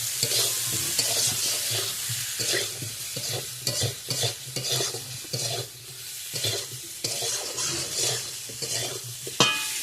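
Potatoes and spice paste fried and stirred in a pan, with a persistent sizzle broken by frequent rhythmic scraping and clattering strokes of a spatula, close-up and loud throughout.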